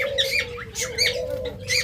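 A lovebird of a popular colour variety squawks loudly and close up, giving several sharp, harsh calls in quick succession over a low background hum.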